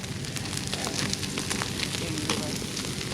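A hardwood campfire burns with dense, steady crackling and hissing, close and fairly loud.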